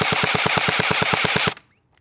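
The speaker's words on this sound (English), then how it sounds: "now let's check the rate of fire of the blaster" A Sig 552 Commando gel ball blaster on a 7.4 volt battery fires a loud, rapid full-auto burst of about a dozen evenly spaced shots, close up, then stops abruptly into near silence.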